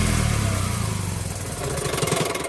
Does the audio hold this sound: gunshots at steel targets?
no